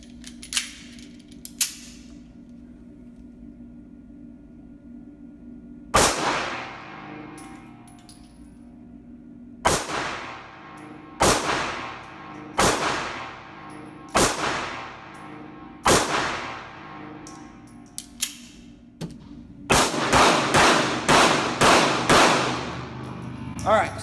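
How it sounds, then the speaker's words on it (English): A Ruger LCP 2 .380 pocket pistol fires about a dozen sharp, loud shots outdoors, spaced singly at first and then in a quick string of rapid shots at the end, each with a brief ringing decay. "So putting a little bit more rounds through it for you guys here."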